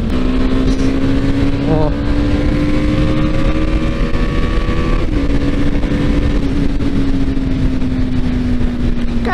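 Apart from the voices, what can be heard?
Yamaha Fazer 250 motorcycle engine downshifting and accelerating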